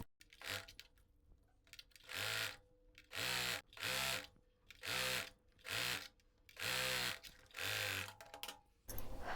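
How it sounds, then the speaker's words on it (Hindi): A sewing machine stitches the inside seam of an Anarkali kurti in about eight short whirring runs, each separated by a brief pause, close and clear with no talking. "अब इसको इधर के लिए पलट देंगे और अंदर से सिलाई लगा देना है।"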